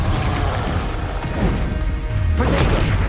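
A Confringo spell blast in Hogwarts Legacy lands as a loud, dense crash that stays thick and sustained, with a second burst of impact noise near the end.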